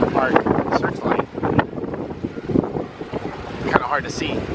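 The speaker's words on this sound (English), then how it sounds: "It's very windy, so bear with us." Strong wind buffeting the open deck of the aircraft carrier USS Lexington, roaring and gusting unevenly into the microphone in loud bursts throughout.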